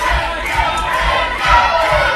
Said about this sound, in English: The crowd spurring him on.